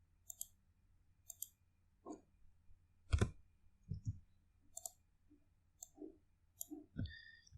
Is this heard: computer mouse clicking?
yes